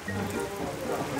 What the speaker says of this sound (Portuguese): Olha essa tempestade.